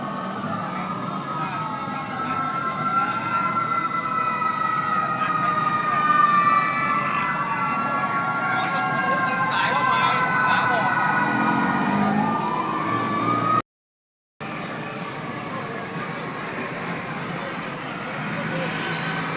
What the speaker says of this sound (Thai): รถดับเพลิงมาเต็มเลย